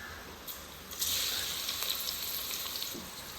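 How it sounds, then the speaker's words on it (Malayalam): Onions frying in ghee and Dalda with whole spices in a pressure cooker for biriyani, a steady close hissing sizzle that swells louder after the first second and carries on evenly, with a few faint stirring clicks and no talking. "ഇനി ഇതിലേക്ക് ഉള്ളി ചേർക്കാം."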